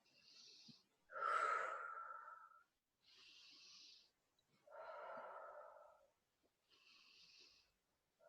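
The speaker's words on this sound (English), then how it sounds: "Breathing in through the nose." Slow nasal breaths are drawn in and let out during a guided mindfulness breathing exercise, several long airy inhales and exhales alternating with quiet gaps, close and soft.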